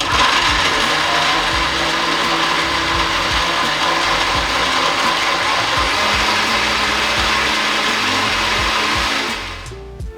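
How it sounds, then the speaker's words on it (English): A blender whirs steadily at high speed for several seconds blending a banana blueberry smoothie, with a grinding, rattling mechanical tone, then cuts off. "Let's drop this in the blender."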